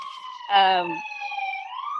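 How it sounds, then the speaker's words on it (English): Ambulance sirens pass slowly outside, a steady wailing tone that sweeps gently up and down, with a louder harmonic-rich horn blast in the middle, audible from a moderate distance behind a quiet room. "Forgive the ambulances that are going by right now. They're going by kind of slow"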